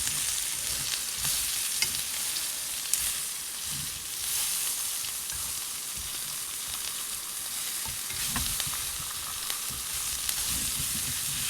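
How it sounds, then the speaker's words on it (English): Steaks sizzle steadily in a very hot pan, fat frying along the pan's edge, a dense continuous hiss with small pops and crackles, close and fairly loud, with no talking. "put your steaks to the edge of the pan, curve them around so that the fat fries"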